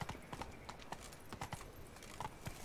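Roach, the horse in The Witcher 3: Wild Hunt, gallops with quick, rhythmic clip-clop hoofbeats, close and steady, over a soft background.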